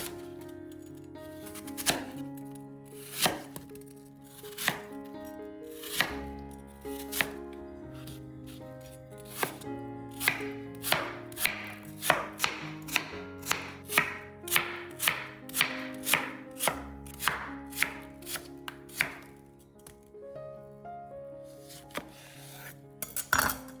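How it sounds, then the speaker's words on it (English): Apples are sliced on a board, a series of sharp knife chops that start sparse and grow faster and denser midway, close up over soft background music, with no speech. "Now for the fruit, peel and slice 4 apples."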